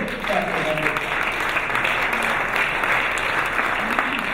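Applause at an awards gala, greeting the Deputy Minister: a dense, steady burst of clapping from a large seated audience, loud and continuous, with faint voices mixed in.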